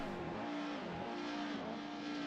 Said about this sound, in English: Lights are up, engines are revving.